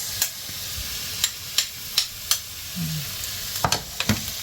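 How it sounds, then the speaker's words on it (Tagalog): Onions sautéing in hot oil in a home kitchen, a steady sizzle broken by sharp stir clicks and scrapes at regular intervals, close and fairly quiet. "Lagay na natin yung sibuyas."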